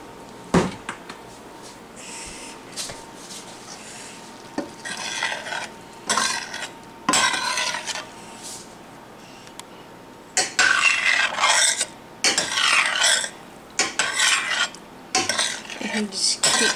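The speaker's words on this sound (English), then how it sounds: "and just keep stirring." A spoon stirs a pot as it comes to the boil, scraping and rubbing against the metal in irregular bursts, loud and close, with brief pauses between strokes and no talking.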